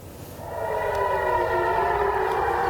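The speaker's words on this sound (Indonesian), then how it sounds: "Sirine seperti yang kita simak ini pemirsa terdengar meraung" A civil defense air raid siren wails loudly and steadily in Jerusalem during an Iranian missile attack, its rising tone swelling and holding in a continuous drone.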